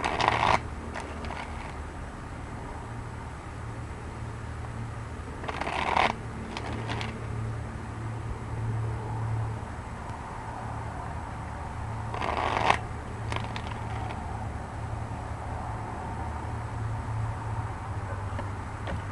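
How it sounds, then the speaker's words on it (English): Tarot cards are shuffled by hand in a quiet room, producing repeated riffling bursts with soft rustling and handling sounds in between. "Three cards, please."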